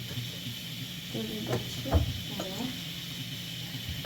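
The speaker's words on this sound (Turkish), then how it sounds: "Onu zeytinyağıyla hafif kavrukladım. Biraz pirinçle kavrukluyorum." Green lentils and rice sizzle gently in olive oil in a pan, a steady soft hiss running throughout while people talk over it in a home kitchen.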